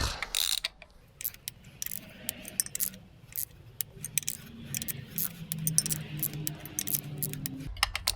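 Wrench work on a Renault Kangoo clutch, snugging the bolts to 20 Nm: repeated sharp metallic ratchet clicks and clinks come in irregular bursts, close and fairly quiet, with no talk.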